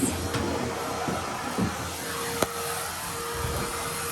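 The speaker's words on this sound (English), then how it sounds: "I think these will be okay getting up the vacuum cleaner." A vacuum cleaner drones steadily indoors as it sucks up plant bits and cobwebs from a floor corner, with occasional small clicks and rattles of debris going up the hose.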